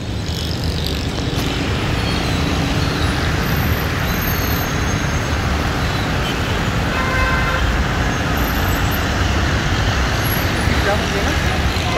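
Traffic jam on Shah-e-Faisal road in Karachi, with a dense, continuous rumble of cars, buses and trucks and scattered car horns sounding throughout, while someone talks over the noise.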